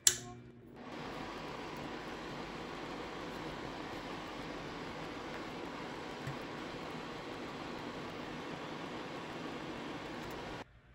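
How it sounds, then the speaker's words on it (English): A fume extractor fan starts near the beginning and runs as a steady, even broadband whoosh for about ten seconds before cutting off, close and moderately loud, with no talking over it. "Now I'm going to open my fume extractor"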